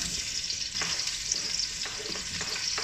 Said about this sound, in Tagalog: Gisa na natin ang ating luya.